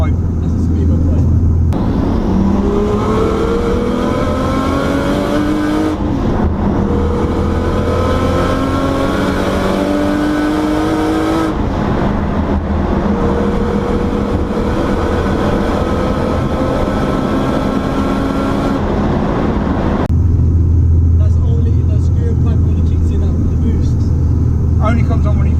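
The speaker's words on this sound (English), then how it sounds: "you hear that noise that comes in, that's the screamer pipe" A tuned 700 bhp Nissan Skyline engine roars under sustained load at full boost, with the screamer pipe's rising whining tone sweeping up repeatedly as it accelerates, loud and continuous.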